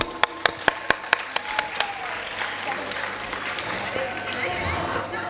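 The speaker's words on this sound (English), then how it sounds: "Parents, please give him a round of huge applause." At a school annual day celebration, about eight sharp, evenly spaced claps ring out in quick succession, then give way to a low crowd murmur and people talking in a large hall.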